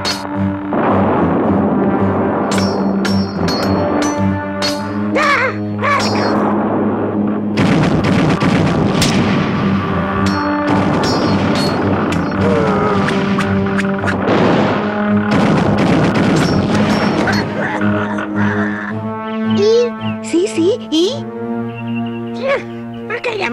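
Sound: battle sound effect with artillery and gunfire

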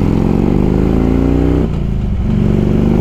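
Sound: Harley-Davidson Road King motorcycle with Python exhaust

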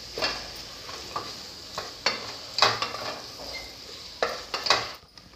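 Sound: sautéing mint and coriander leaves on low flame

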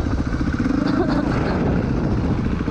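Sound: neighbour starting a Kawasaki motorcycle

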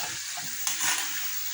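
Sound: dough frying in oil

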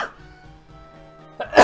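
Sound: cough

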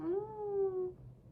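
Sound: voice imitating a cat meow

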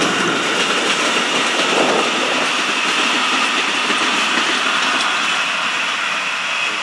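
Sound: Brightline passenger train passing by southbound

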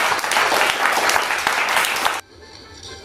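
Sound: audience applause welcoming a guest at a ceremony

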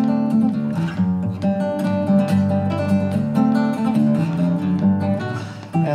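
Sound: guitar playing the Moscow Polka

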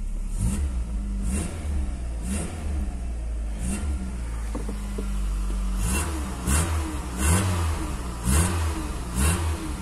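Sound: 1994 Volkswagen Santana CLi engine revving

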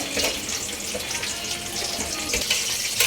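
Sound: butter shrimp boiling

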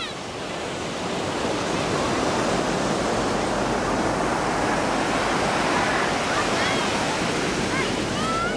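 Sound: ocean waves on Baker Beach, San Francisco

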